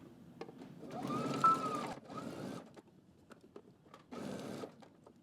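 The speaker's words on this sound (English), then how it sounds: "let's head over to the machine, and we're going to stitch all the way around" Short, quiet bursts of a sewing machine stitching around coat sleeves, separated by brief pauses with small clicks and handling noises, heard close without any talk.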